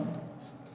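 Pen scratching across paper during a Class 10 maths lesson on finding the mode, a short steady scrawl with a faint voice underneath.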